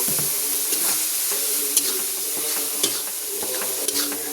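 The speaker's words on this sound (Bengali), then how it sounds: "এবার না একটুখানি জল দিয়ে কষিয়ে নেব" Turmeric, red chilli, salt and cumin masala stir-fried with a splash of water, making a steady close sizzle broken by repeated spatula scrapes and a few sharper clinks against the pan.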